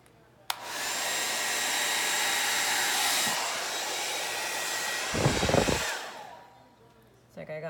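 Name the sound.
hair dryer blowing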